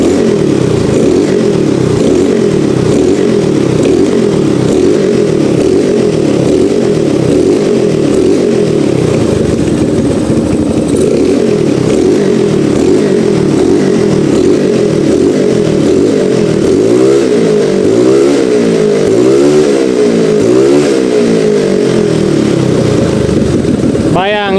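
A motorcycle engine with a carburetor converted to non-vacuum, tuned on low-compression Pertalite fuel spec, idles and revs loudly and steadily up close, with quick throttle blips rising and falling in pitch throughout.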